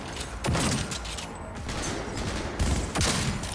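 Gunfire in Cyberpunk 2077, loud repeated bursts of shots with a pause between volleys, close and dense, with mechanical clatter and no clear talk.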